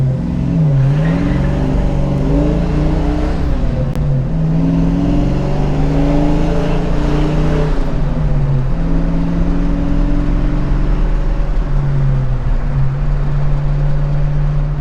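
A classic Ford Mustang engine drones steadily while driving, loud and close, with shifting rev tones rising and falling as it cruises.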